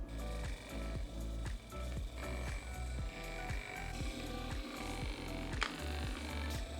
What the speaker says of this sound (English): massage gun.